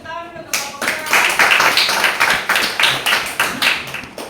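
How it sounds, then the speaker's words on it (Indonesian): Applause for a student group in a classroom presentation session: a crowd claps in rhythmic bursts after a brief silence, steady and fairly loud, with a few voices mixed in. "Tepuk tangan dulu untuk kelompok A."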